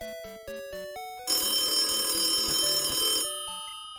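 A telephone rings in a melodic electronic pattern: stepped repeating tones, then a loud, dense sustained burst for about two seconds before the stepped tones return. No voices are heard over the ringing.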